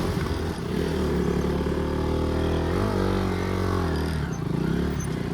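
A sport motorcycle engine drones steadily during a ride on a rough road, a close and continuous hum with a slight rise and fall in pitch as the rider changes speed.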